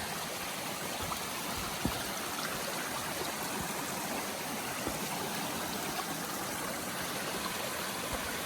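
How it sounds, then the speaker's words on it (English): Large, clear mountain stream rushing across a hiking trail on Mount Bigelow, Maine, at about 2,600 feet: a continuous, full, broadband roar of flowing water, close and steady throughout. "Another stream crossing. It's a big one."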